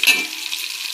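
Vegetables and green chillies fry in oil in a pan for vegetable biryani, a steady bright sizzle with a brief stir at the start, close and even throughout.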